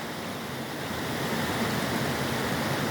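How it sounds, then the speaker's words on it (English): A river waterfall at Los Robles rushes in a loud, dense, continuous roar of falling water, steady and close with no voices. "And it makes it one big waterfall down there."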